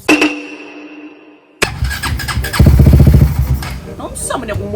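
A motorcycle engine sputters briefly, cuts out, then restarts and runs with a loud, close, pulsing idle that rises into throbbing revs, while people talk over it.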